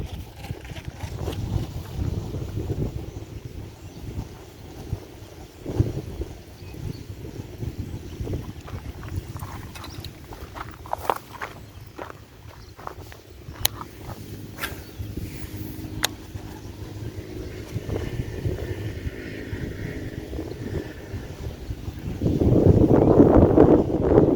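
Strong wind buffets the microphone on a riverbank during a fishing trip, a continuous rushing roar with gusts that swell louder near the end.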